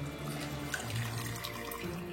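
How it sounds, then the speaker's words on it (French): Cooled brine pours steadily into a jar of fresh olives, a soft, close liquid trickle lasting about two seconds with no voices. "ma saumure a bien refroidi et là je verse"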